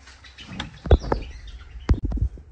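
Birds in an indoor breeding room giving short, sharp chirps scattered irregularly, close and fairly clear, along with a few soft knocks and rustles.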